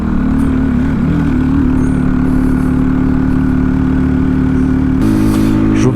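A Hero XPulse 230 motorcycle labouring uphill on the Tanglang La mountain pass, a loud, steady engine drone heard close throughout, its tone shifting briefly near the end.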